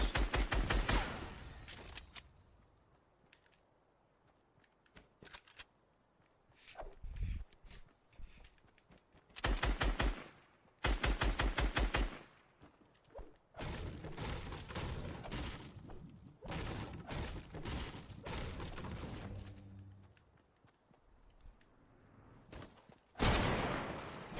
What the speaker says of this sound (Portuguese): Vou só destruir estas lhamas.